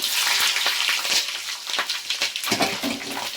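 Onions and whole spices such as cardamom frying in oil for chicken leg piece biryani, a loud continuous sizzle broken by clattering stirs and splashy bursts.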